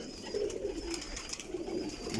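Pigeons in a home loft coo softly in low repeated murmurs, a steady close presence over faint background hiss, with no talk.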